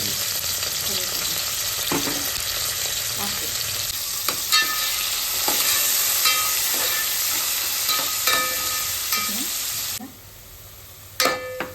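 Onions fry with curry leaves and mint for a mutton dish, a loud, steady close sizzle with intermittent stirring clicks that dies down suddenly near the end before a final brief clatter.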